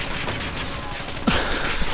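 Gunfire in the Call of Duty Modern Warfare video game, a steady dense crackle of shots through the whole moment with one sharper, louder burst near the end, all fairly loud with no clear talk.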